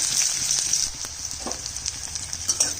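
Chopped small onion sizzling in hot oil for okra curry, a steady bright frying hiss throughout with faint stirring clinks, close and fairly loud, no talking.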